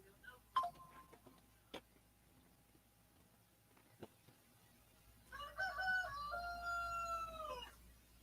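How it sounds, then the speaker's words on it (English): A free-roaming rooster crows once, a clear drawn-out cock-a-doodle-doo at moderate distance after a few scattered clicks and knocks in an otherwise quiet room. "I hear roosters."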